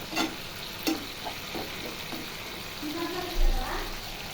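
Large prawn curry simmering and sizzling in a pan over a flame, a steady soft frying hiss with occasional clinks of stirring, while a voice talks quietly over it.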